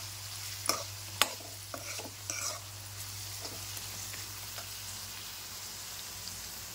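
Poha with turmeric and finely chopped onion stirred in a pan, a faint sizzle under occasional sharp spoon clinks and scrapes against the pan, with a low steady hum beneath and no speech.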